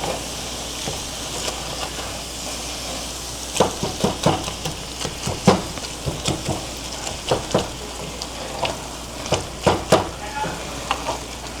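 Fatty ground turkey frying in butter in a pan, a constant crackling sizzle with a quick run of knocks and scrapes as a spatula breaks up and turns the meat.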